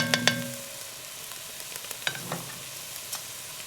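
Homemade beef broth poured into a hot pan to deglaze it during a red wine venison braise. A couple of sharp clinks open, then a soft, intermittent sizzle with light scraping and bubbling follows, fairly quiet throughout.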